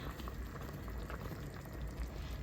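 Quiet, steady bubbling of a pot at a rolling boil with sweet potato and carrots, a continuous soft burble with no voices.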